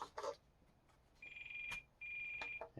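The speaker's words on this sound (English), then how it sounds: "we got a low smart battery in the airplane alarm" Low smart battery alarm sounding from an E-flite Night Timber X RC airplane: two sustained high electronic beeping tones, each around a second long with a short gap between, close and clear, with faint handling clicks.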